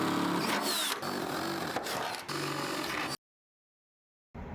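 A power drill with a half-inch bit whines loudly and continuously for about three seconds while drilling a hole, then cuts out to silence before starting up again.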